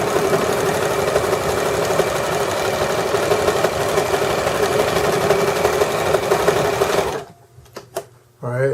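A sewing machine stitches a placemat, running in a loud, steady mechanical whir for about seven seconds before stopping, followed by a few faint clicks and handling sounds.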